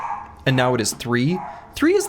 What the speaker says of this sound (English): sorry if you can hear the dogs barking up there